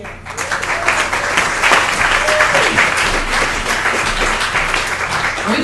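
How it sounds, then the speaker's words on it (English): Audience applause fills a small-stage live show, dense steady clapping sustained throughout at close range, with a few faint voices underneath. "Are we clapping for ourselves here"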